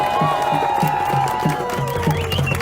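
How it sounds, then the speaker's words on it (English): A crowd at a Sudanese community march in Northern California cheers and claps. The noise is loud and continuous, with sustained whistle-like tones and a steady rhythmic beat running underneath. "Please give her a warm round of applause."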